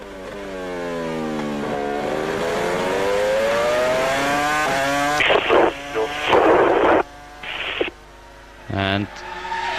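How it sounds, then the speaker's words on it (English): An on-board 2002 Formula 1 car in practice at the San Marino Grand Prix, with a broken exhaust, sweeps up through a loud high-pitched rising wail, then cuts into choppy bursts and lifts as it brakes and shifts. "It sounds like a broken exhaust."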